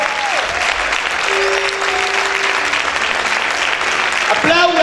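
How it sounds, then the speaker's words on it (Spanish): A church congregation claps loudly and steadily throughout, with a voice speaking over the applause and another voice coming in near the end. "¿Cuántos pueden aplaudir fuerte al Señor?"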